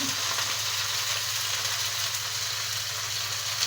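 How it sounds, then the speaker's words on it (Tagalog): String beans are stirred into a pan of browned tomatoes, onion and garlic with oyster sauce, giving a steady, close sizzle that stays constant throughout with no talking. "ihalo ko na yung sitaw kasi nag brownish na yung mga kamatis sibuyas bawang"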